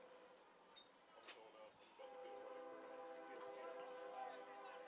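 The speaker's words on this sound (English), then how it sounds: "Train horn sounds off in the distance." A train horn sounds faintly in the distance during a college baseball game, a sustained tonal blast that swells after a couple of seconds, with an announcer talking over it.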